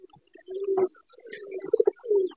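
A hybrid pigeon sits in its nest box and gives soft, close, throaty coos in a few drawn-out phrases, with short pulsing notes between them.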